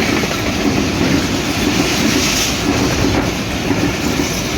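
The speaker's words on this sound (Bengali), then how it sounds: "6545 সিরিজের লোকোমোটিভ নিয়ে সিলেহাটি থেকে সেরে আসা রাজশাহীগামী বরেন্দ্র এক্সপ্রেস এই মুহূর্তে ছুটে যাচ্ছে রাজশাহী অভিমুখে।" Barendra Express passenger train bound for Rajshahi, hauled by a 6545-series locomotive, rushing past at close range with a loud, steady roar and rumble of wheels on rails throughout.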